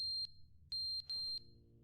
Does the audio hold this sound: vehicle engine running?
no